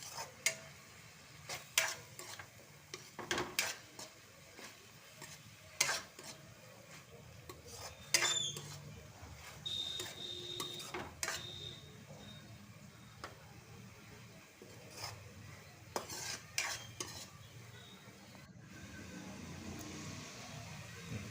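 An egg mixture is stirred clean in a pan, a quiet series of sharp spoon taps and scrapes against metal at irregular intervals over a faint low background.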